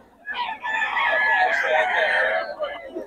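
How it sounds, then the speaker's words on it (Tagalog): A rooster lets out one long, strained crow close by, rising and holding before trailing off, with quiet background around it. "ganda ng manok ni Boss Kya mga idol."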